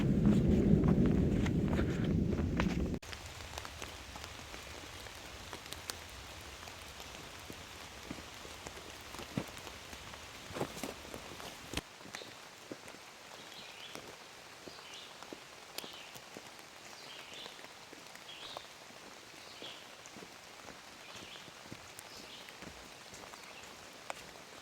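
Rain falling on a mountain forest trail, opening with a brief louder rumble before settling into scattered soft patters and drips on leaves and surfaces, faint and steady with no talking.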